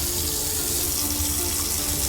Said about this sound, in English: I have to place the lungs in a container of water